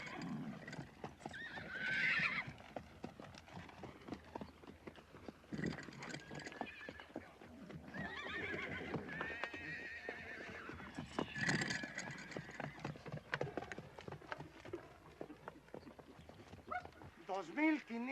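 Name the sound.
horses neighing and hooves clopping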